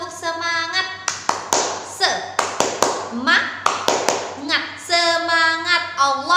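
Children in an Islamic elementary-school class perform a rhythmic spirit clap, sharp bursts of clapping in a patterned beat while voices chant along between and over the claps.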